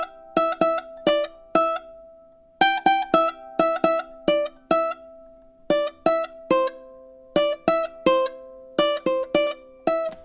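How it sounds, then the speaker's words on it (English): A ukulele melody is played staccato, each plucked note cut short into choppy, separated bursts with silent gaps, close and clear with no voice over it. "I can do everything perfectly with my fretting hand here, and I can still get a staccato sound like this"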